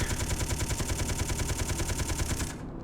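Ship guns in Space Engineers fire in a rapid, steady automatic stream for about two and a half seconds, loud and close, then cut off abruptly and leave a low hum.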